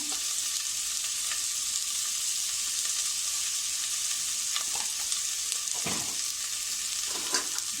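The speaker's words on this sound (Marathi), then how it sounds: "पायाचे परतून घेतले आहेत त्या मसाल्यामध्ये, म्हणजे व्यवस्थितपणे त्याला मसाला लागला जाईल" Mutton trotters sautéing in a turmeric masala for paya soup, a steady close sizzle throughout with occasional scraping stir strokes near the end, no voices.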